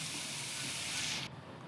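Onions and curry leaves frying in a pan with salt for tomato gojju: a dense, steady hissing sizzle that suddenly drops to a quieter level near the end, close, with no talking.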